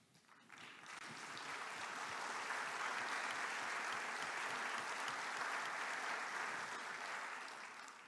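Sustained audience applause at a fall university convocation, rising quickly and holding steady at full volume across the room for several seconds before easing slightly at the end.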